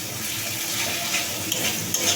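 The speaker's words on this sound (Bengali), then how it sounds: "মশলাটাকে ভালো করে কষিয়ে নেব।" Spice masala with turmeric and salt fries and is stirred in a pan for prawn malai curry with giant river prawns, giving a steady close sizzle with light scraping of the spoon against the pan and no voices.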